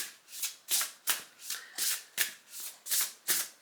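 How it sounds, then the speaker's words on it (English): A deck of cards being shuffled by hand, about eight quick riffling bursts in a steady rhythm, close and crisp, with no talking. "Let's give it a good shuffle."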